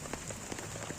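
Rain patters steadily on a minimalist hammock shelter, with light irregular drop taps over a soft constant hiss, close by and without talk.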